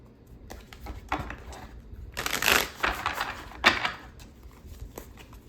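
Tarot cards are shuffled by hand, a series of soft riffling bursts and papery flutters, close and fairly quiet, with a few louder riffles in the middle.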